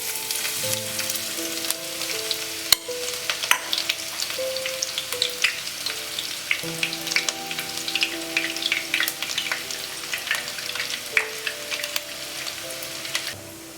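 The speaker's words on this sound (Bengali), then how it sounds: "কড়াইয়ে যে তেলটা ছিল সেটা গরমও হয়ে গেছে, আর এবার আমি ওর ওপর পেঁয়াজটা দিয়ে দেবো যেটা কুচিয়ে নিয়েছি" Chopped onion sizzles in hot oil in a kadai wok while a capsicum chicken is being cooked: a steady close frying crackle with scattered sharp pops and occasional stirring clinks.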